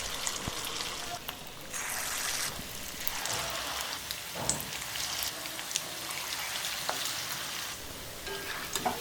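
Rava bonda fry in hot oil over a medium flame, a steady close sizzle and crackle with soft bubbling that runs throughout with no pause.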